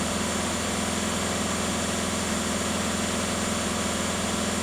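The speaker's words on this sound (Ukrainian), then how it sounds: "цікава робота двигуна, дуже гарячий вихлоп" A VW Caddy 2.0 TDI EA288 diesel van engine idles with a steady, low rumble, continuous at an even volume, close and alone, with no voices.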